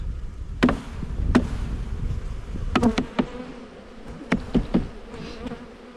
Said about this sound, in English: those are all flying bees. They'll fly back in there.